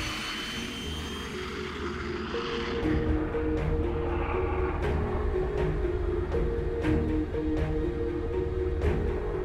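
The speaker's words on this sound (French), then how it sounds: "J'embarque avec confiance dans son Fuga Magister," A Fouga Magister jet of the Patrouille de France roars with a steady, loud engine drone and a rising whine that swells after the first few seconds, with no voices present.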